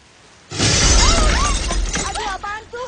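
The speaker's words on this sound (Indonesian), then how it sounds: "Kayak suara piring pecah deh." A plate shatters with a sudden loud crash, and scattered bits of breakage ring on underneath while people talk and exclaim over the noise.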